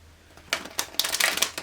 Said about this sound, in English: we'll go ahead and start shuffling the cards